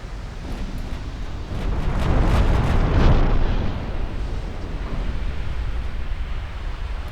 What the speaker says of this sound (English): One torpedo hit on one of the battleships.